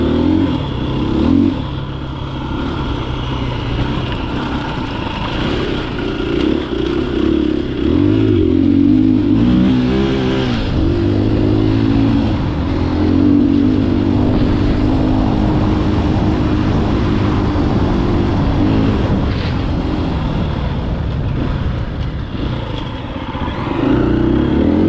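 A KTM 350 dirt bike is ridden hard through forest terrain, its engine revving up and down in repeated surges and gear changes, loud and near, with clattering from the trail mixed in.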